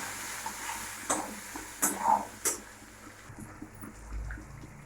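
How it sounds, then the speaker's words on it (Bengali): Chopped tomato, chili and ground spices stirred in a hot oiled pan: a soft sizzle with several distinct scraping strokes of a spoon, then quieter bubbling, no talk. "দিয়ে দেবো টমেটো কুচি, দিয়ে দেবো লঙ্কা কুচি, আর দিয়ে দেবো মশলার গুঁড়োটা, দিয়ে এটা আমরা ভালো করে নেড়ে নেবো"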